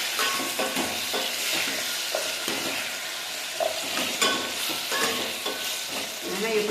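Onion and garlic sizzle and fry in a pot as they are added to cooking sambar. A continuous crackle runs throughout, with frequent stirring scrapes and clinks of a utensil close by, and no voices.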